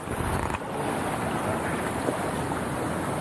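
Rushing water from a mountain waterfall in Bulacan roars as a broad, steady wash of noise. Wind buffets the microphone, and a brief thump sounds early on.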